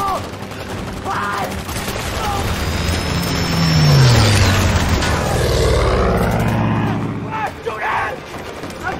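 Rapid bursts of gunfire and explosions crackle through a loud, chaotic battle scene in a Chinese war film about Japanese troops taking Shanghai, with an aircraft roaring overhead and voices shouting beneath.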